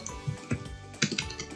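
Quick bursts of typing on a computer keyboard while working in Microsoft Word, several close, light clicking keystrokes in an uneven rhythm.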